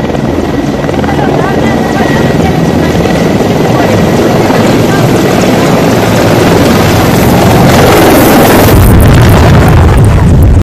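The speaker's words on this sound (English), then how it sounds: "during takeoff one of the helicopters almost hit the news reporter" Military helicopter taking off at an army centennial celebration, a loud, continuous rotor roar right nearby that dominates throughout and grows heavier toward the end.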